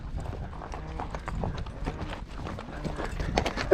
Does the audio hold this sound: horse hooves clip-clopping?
yes